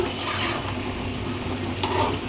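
Spice paste of turmeric, chilli, ginger, garlic and salt with meat is stirred and fried in a pan, giving a soft continuous sizzle with scraping strokes and a sharper clink near the end.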